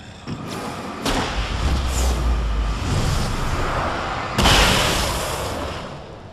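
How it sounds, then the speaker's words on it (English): Heavy thumping blasts of a flare gun firing in the Alan Wake video game, a booming shot near the start and another around the middle, with dense rumbling action noise filling the gaps. "I love flare guns."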